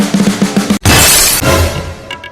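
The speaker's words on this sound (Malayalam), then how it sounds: "ആരാടാ വീട്ടിലെ ഗ്ലാസ് എറിഞ്ഞ് പൊട്ടിക്കണേ?" Glass is hurled and shatters with a loud, bright crash that rings out and fades, following a few rhythmic low thumps.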